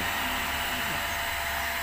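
A hair dryer blows hot air onto a Daymaker headlamp lens, a loud, steady broadband roar running the whole time with a faint voice murmuring underneath.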